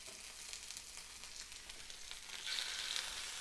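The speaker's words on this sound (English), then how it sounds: "You want to hear a good sizzle immediately." Tuna steak sizzling steadily in a hot pan, a soft continuous crackling hiss that swells a little louder near the end, with no voices.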